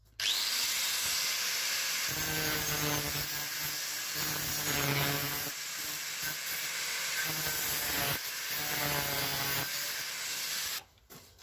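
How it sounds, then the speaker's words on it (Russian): A power saw cuts teeth into a steel blade for a homemade hoe or flat cutter, giving a continuous harsh, hissing grind that holds steady and loud for about ten seconds before stopping abruptly. "Обрезаю зубья на пиле."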